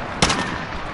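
A single sharp sniper rifle shot rings out in Call of Duty Modern Warfare, a loud, close crack that fades into a short echo and the game's background noise.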